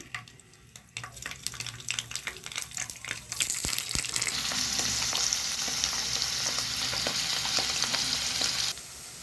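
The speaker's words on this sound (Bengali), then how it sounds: "তো কড়াই গরম হয়ে গেছে, এবার আমি পনিরগুলোকে ভেজে নেব।" Sizzling and crackling of paneer frying in hot oil, with stirring clatter early on, then a steady loud hiss that cuts off near the end.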